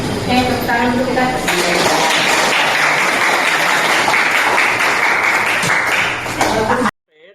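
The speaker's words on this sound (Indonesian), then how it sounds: "Tepuk tangan dulu kita." An audience applauds with dense, sustained clapping that begins under a speaking voice, carries steadily for several seconds, then stops abruptly.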